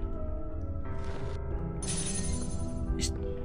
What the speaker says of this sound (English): That's a bell, clearly.